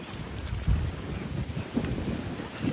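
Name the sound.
strong wind and sea waves at Ostende beach, Belgium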